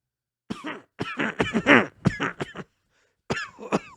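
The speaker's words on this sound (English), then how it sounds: "There was a small voice and muffled coughing." Several muffled coughs and throat clearings in short bursts, close and fairly loud, with a brief pause before a final cough.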